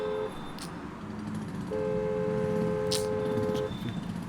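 Car horns blare in a traffic jam, a short toot followed by a long, sustained honk of about two seconds over a low, rumbling bed of idling engines.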